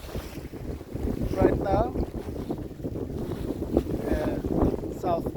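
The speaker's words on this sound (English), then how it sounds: "We're just sailing the head sail and we're going south" A sailboat running south under its headsail alone, with steady wind buffeting and water rushing along the hull, and someone speaking briefly over the continuous noise.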